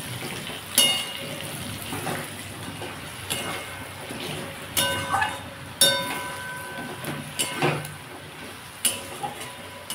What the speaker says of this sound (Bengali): এটা একটু কষে নেবো ভালো করে।